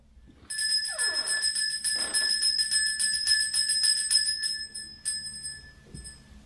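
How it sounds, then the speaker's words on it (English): A bell rings out loud and sustained from about half a second on, its bright tones holding steady with a few fresher strikes, set in an eerie Appalachian setting, fading slightly near the end. "Listen to the sound of this bell."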